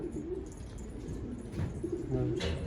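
Old-breed purple Istanbul pigeons cooing nearby, soft repeated low throaty coos rising and falling across a quiet background, with a little faint talk behind them.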